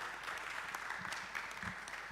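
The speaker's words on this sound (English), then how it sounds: "please give applause again to Pak Heru" Audience applause at an international geoscience and earth resources engineering conference, a steady patter of clapping from a seated crowd held at moderate level throughout, with no voices over it.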